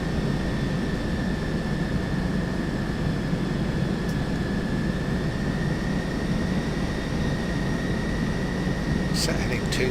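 A Boeing 727 jet takes off in the Captain Sim flight simulator game, a steady loud engine roar with a whining tone holding throughout, while crew voices talk over it.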